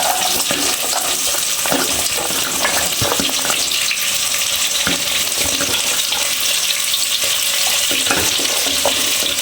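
Green chillies and carrots fry for biryani in a loud, dense sizzle that holds steady throughout. Scattered clicks of stirring sound up close, and nobody talks.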